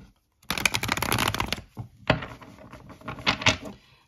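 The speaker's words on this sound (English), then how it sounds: "So I'm going to shuffle these cards" Tarot cards being shuffled by hand during a Sagittarius reading, riffling in two dense bursts with a short pause between, close and clear with no talking.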